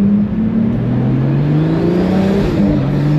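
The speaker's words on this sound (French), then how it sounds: "on va faire la première petite accélération, Charlot." A luxury car accelerating hard through Monaco, with a steady engine drone and turbo whine rising in pitch, heard loud from inside the cabin and with no talking.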